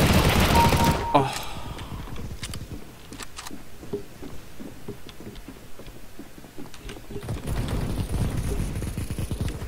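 Gunfire in the video game CS:GO rattles in bursts of rapid shots at moderate volume, with scattered clicks and other game sounds between them and louder noise at the start and end.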